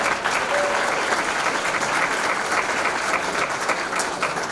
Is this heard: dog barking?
no